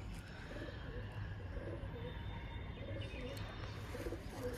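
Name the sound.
pigeon cooing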